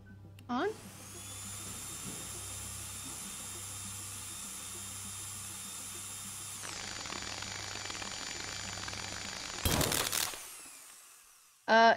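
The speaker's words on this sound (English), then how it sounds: "Proceed to drill the surface." A drill runs in the Stories Untold video game, a steady high whine that holds for several seconds, shifts pitch partway through, then ends with sharp loud bursts.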